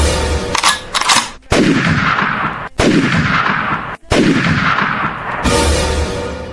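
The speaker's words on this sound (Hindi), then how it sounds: "ये क्या, सच में गोली चला दी, वो भी अपने ही आदमी पर?" Four or so loud, sharp gunshots ring out in an animated crime drama, each blast followed by a long echoing tail over a dense, rumbling background, with no talk.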